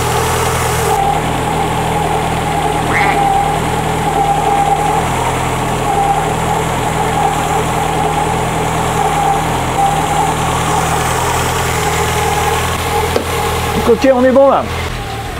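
Carburetted engine ticking over at idle, a steady low rumble held throughout, with someone speaking briefly near the end over a burst of handling noise.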